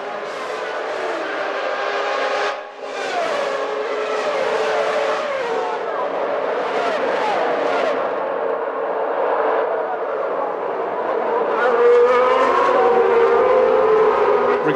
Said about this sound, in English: that going off is Martin Brundle in the Brabham Yamaha